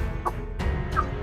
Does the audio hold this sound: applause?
no